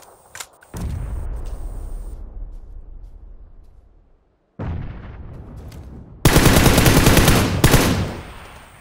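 Gunfire in a shooting game: a short crack, a sustained rumbling burst, a gap of near silence, another burst, then a loud rapid automatic volley, all close and alone without talk.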